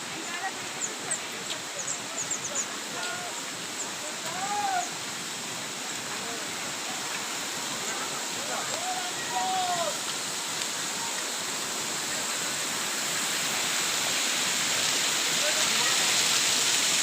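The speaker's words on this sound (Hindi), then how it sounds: "तो हम झरने के पास आ गए हैं।" A mountain waterfall on the Kedarnath trek in Uttarakhand roars as a steady broadband rush that swells louder toward the end, with scattered bird chirps faintly audible over the water.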